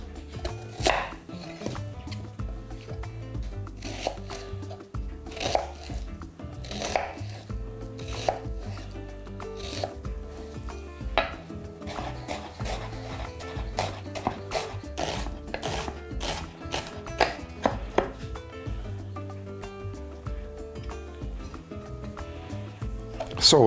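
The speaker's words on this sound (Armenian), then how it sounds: "Կվերցնեմ 1 միջին գլուխ սոխ, կտրատում ենք մանր։" A knife finely chops a medium onion on a cutting board in quick, steady, crisp strikes, close and clear, with brief pauses between bursts and no talking.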